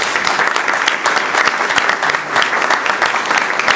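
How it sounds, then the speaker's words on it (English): Loud, dense applause fills a hospital event in Provo honoring retired doctors. A crowd claps steadily and close for the whole stretch, with no break. "Let's give a round of applause for all of these wonderful people."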